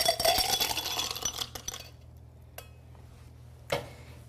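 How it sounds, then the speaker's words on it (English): A shaken cocktail is poured from a shaker into a tall glass at a bar, giving a rush of liquid with ice clinking against glass for about two seconds, then a few scattered clinks and a final sharp tap. "then we're going to pour it to a tall glass"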